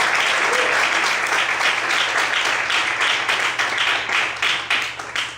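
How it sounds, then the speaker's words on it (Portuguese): A church congregation applauds, a dense, loud wash of many hands clapping that holds steady and then starts to thin and fade toward the end. "Você pode aplaudir ao Senhor"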